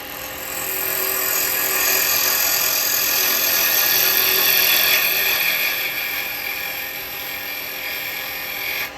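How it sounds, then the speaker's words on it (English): Carbide tool squaring up a yew blank on a wood lathe while turning a goblet: a continuous loud, hissing, high scraping whine that holds steady for the whole stretch and eases slightly near the end, with no talk. "I'm going to use the carbide for that and just go in and just make sure that's straight."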